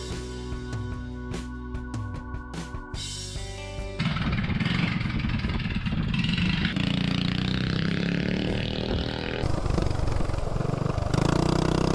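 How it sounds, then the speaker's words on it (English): A mini bike engine on stock suspension runs along dirt trails, first a steady buzzing drone, then a louder, rougher roar as it rides, with wind and bumps mixed in, close and continuous. "I'm gonna take this bike out on the dirt trails with the stock suspension"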